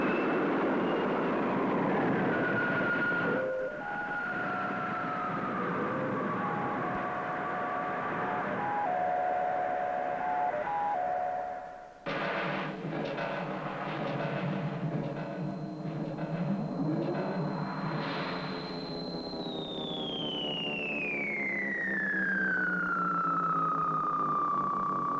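Spaceship takeoff effect from a 1962 colour TV series: a loud electronic drone with warbling tones, a brief cut, then a rising rumble and a long sweeping whine that climbs and slides down, with no talk.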